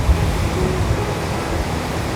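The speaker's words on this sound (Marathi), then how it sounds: "इकडच्या लाटा बघा तुम्ही आता" Sea waves surging at Kasheli beach near Rajapur during a high tide, a steady broad wash of surf with low rumbling, continuous and fairly loud with no voices.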